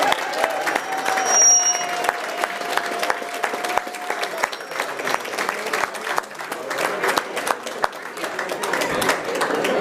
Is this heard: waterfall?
no